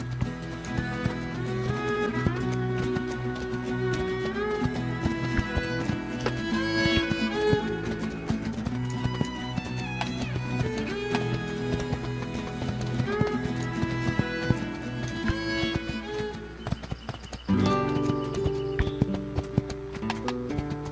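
The horse Spirit gallops in a video game with a quick, steady clip-clop of hooves set over continuous background music.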